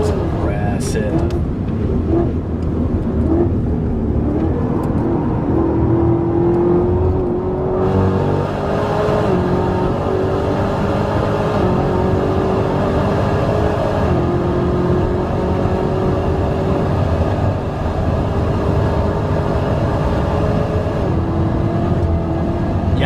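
A Chevrolet Camaro ZL1 with a 10-speed gearbox drives on the Nordschleife, its engine a steady drone that slowly climbs in pitch under nearly continuous talking.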